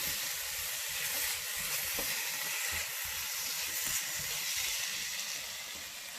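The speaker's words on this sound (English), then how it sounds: "We add those, stir it, and we will, as we are stirring, we will keep the flame in low." Rinsed canned red kidney beans hiss softly and evenly in a pan on low flame while being stirred, a steady sizzle with faint scraping and no voices.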